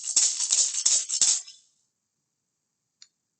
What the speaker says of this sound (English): That was the maraca.